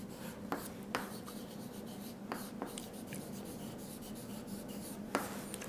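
Writing an example on a board, several short scratchy strokes and taps spaced irregularly over a quiet room hum, close and fairly faint, with no talk.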